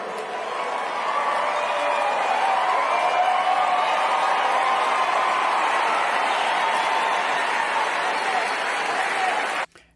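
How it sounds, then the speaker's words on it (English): Sustained audience applause from a large crowd, steady dense clapping with some cheering for about ten seconds before it cuts off abruptly. "they're clapping for him dunking on her"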